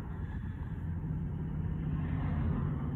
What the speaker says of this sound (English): Here come the fire truck.